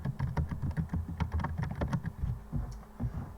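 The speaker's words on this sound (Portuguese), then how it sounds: "Eu vou digitar meu nome completo aqui." Someone types a full name on a computer keyboard at a Linux terminal, producing a brisk, close run of irregular key clicks and thumps with brief pauses between bursts.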